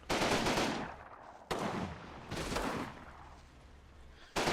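Gunfire from a half-track in the WWII video game Combat Mission: Battle for Normandy, sounding as loud bursts of automatic fire with sharp onsets that repeat four times over a few seconds, with no talking.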